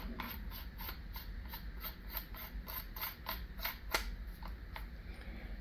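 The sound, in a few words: screwing a barrel extension onto a paintball gun barrel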